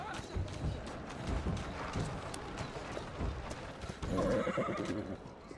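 A horse in the Assassin's Creed Syndicate video game whinnies while its hooves clip-clop steadily, with muffled game ambience and some background talk.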